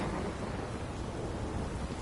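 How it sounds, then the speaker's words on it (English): A steady, dense roar of thunder with heavy rain fills the scene during a lightning strike in The Witcher, loud and continuous throughout with no voices. "Lightning strike."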